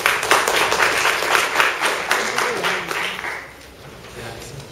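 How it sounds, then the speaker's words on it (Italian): Audience applause at an Italian award ceremony, steady dense clapping that gradually fades, with a faint voice underneath toward the end. "Un applauso."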